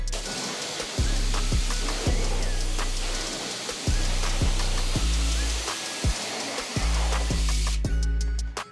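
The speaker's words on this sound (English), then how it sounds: "So I feel like I hit the whole wheel, and let's rinse it off." A hose sprays water over the wheel of an exotic car during detailing, making a loud hissing rush that keeps cutting in and out with short pauses, close and steady between bursts.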